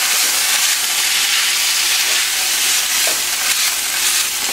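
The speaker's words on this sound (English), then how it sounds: "I like to add my pasta directly now into my chicken like that" Linguini pasta is stirred into chicken frying in oil for a Cajun chicken Alfredo, giving a loud, continuous sizzle and hiss with scraping stir sounds throughout and no talking.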